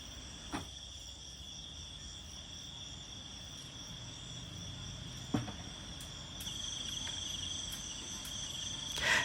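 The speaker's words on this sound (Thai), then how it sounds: "เวลานอนก็ได้ยินเสียงกบเสียงเขียดเสียงมแมลงเสียงจิ้งหรีดแบบนี้" Crickets chirp in a steady, high-pitched drone through a quiet May night on an organic farm, with a few faint knocks and rustles.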